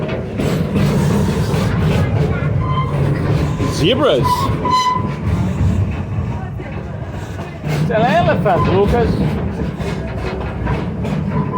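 Continuous rumble and rattle of an amusement-park safari train rolling along the rails, with people talking over the noise.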